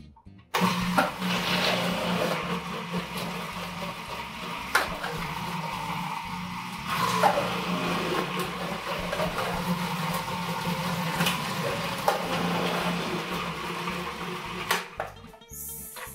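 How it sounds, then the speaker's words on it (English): A food processor grates cooked potatoes, its motor running in a steady mechanical whir for most of the stretch, punctuated by a few sharp clunks as chunks drop through and feed against the blade, then cutting off near the end. "so now I'm going to grate them in the food processor"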